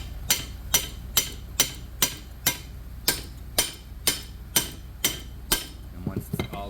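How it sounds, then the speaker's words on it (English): Steel hammer striking a pickle fork wedged into the lower ball joint of a 1992 Honda Acty's front suspension, about a dozen sharp metallic taps at a steady rhythm, close and ringing, with a faint clatter at the end. "tap a pickle fork into the lower ball joint to separate it"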